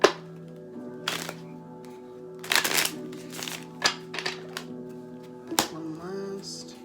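Tarot cards are shuffled in several quick, crisp riffling bursts, with soft taps and rustles between them over a steady low hum.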